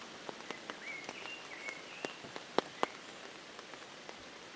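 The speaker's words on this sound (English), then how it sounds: "The rain is making quite a racket in my ear." Rain falling steadily on a surface outdoors near a garden bird feeder, with scattered individual drops pattering close by and a few sharper knocks standing out over a continuous soft hiss.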